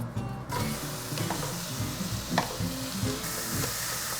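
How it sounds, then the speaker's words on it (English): Beef sautés in a preheated, oiled pan over high heat. A continuous close sizzle runs throughout, with scraping and stirring clatters of a utensil against the pan and a brief sharp clack near the middle. "Now I'm gonna go ahead and add my beef."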